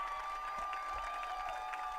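Soft, steady applause from a distant crowd at a high school football game as an injured player with a heavily taped left ankle walks off the field, faint under general stadium noise.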